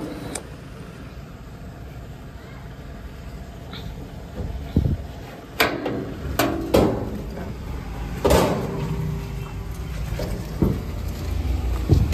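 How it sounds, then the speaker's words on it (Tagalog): Door of a Honda TMX Supremo tricycle sidecar being opened and shut, giving several sharp latch clicks and thuds spread across the stretch over a steady background hum, close by. "Meron din tayong pinto dito mga lodi."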